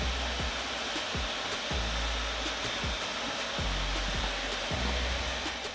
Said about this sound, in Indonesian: kalian bisa dengar sendiri, itu kenceng kan tadi pas gue setel kipasnya